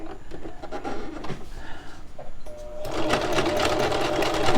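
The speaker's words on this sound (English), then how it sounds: "So first I'm going to do it the straight stitch using that center fold as my guide." A sewing machine running a straight stitch along a centre fold, starting with short stop-start bursts and faint handling noises, then settling into a loud, continuous rapid whirring near the end.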